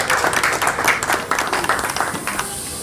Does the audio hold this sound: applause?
yes